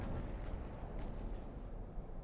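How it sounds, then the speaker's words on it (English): A ship's ammunition detonates in the naval warfare game Ultimate Admiral: Dreadnoughts, a sustained deep rumbling blast with a heavy low roar that holds steady and loud throughout, with faint crackles on top. "And we got an ammo detonation"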